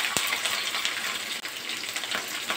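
Green chillies and mixed vegetables fry in hot oil for lemon rice, giving a continuous bright hiss with scattered pops and crackles, loud and close throughout.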